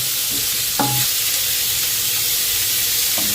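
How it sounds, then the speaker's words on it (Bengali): Steady sizzling of onion and capsicum frying in oil, a constant broadband hiss with a couple of brief clinks, close and fairly loud. "পেঁয়াজ আর ক্যাপসিকামটা মিনিট 2-এর মতো ভেজে নেব।"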